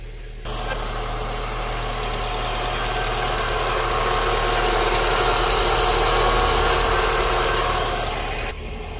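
A Mitsubishi interference engine whose timing belt broke runs steadily at idle, giving a loud, continuous mechanical hum with vibration and no breaks, close to the listener.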